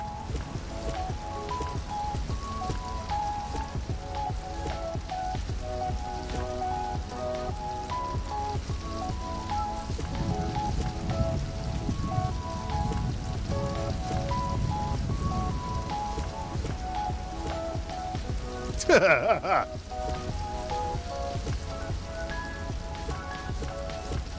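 Steady rain patters across a surface in a building video game, a dense continuous hiss that holds at an even level, with a brief louder swish near the end.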